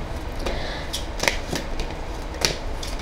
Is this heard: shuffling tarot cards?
yes